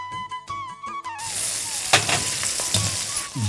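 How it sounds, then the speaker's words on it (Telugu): Chana dal, urad dal, dried red chillies, green chillies, asafoetida and cashews fry in oil for curry leaf rice, a close, steady sizzle with stirring that follows a short tonal musical opening. "అన్నీ కలిపి ఇప్పుడు చక్కగా వేపు"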